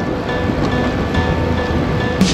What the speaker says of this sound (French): Le vent, il a 24 km/h de face.